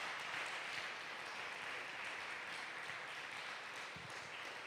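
A church congregation applauds during a worship service, a steady broad wash of clapping that holds evenly from start to finish at moderate loudness.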